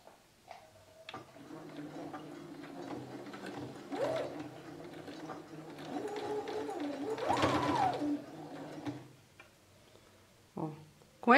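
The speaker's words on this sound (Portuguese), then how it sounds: "Arrumo tudo direitinho e vou costurar." A sewing machine runs in short, steady bursts as it stitches bias tape onto a dish towel trimmed with broderie anglaise, its mechanical whir and ticking close by, with pauses and a voice speaking in between.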